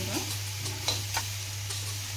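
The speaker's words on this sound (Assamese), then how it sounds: "ভালকৈ মছলাখিনিৰ লগত অলপমান ভাজি লওঁ" Red chili powder and salt frying with spices in a pan give a steady close sizzle, with scattered stirring scrapes and taps over a constant low hum.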